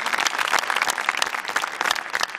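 A studio audience applauds warmly to welcome a guest, Dr. Shalya Raj, onto a talk-show stage, dense steady clapping filling the room from start to finish.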